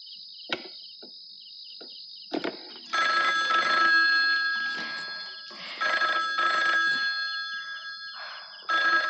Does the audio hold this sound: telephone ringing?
yes